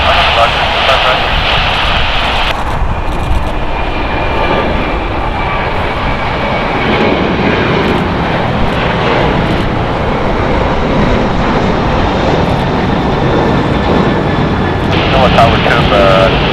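A SkyWest airliner taking off from runway 25 right at LAX, a steady loud roar of jet engines that holds throughout, with air traffic control radio chatter running over it.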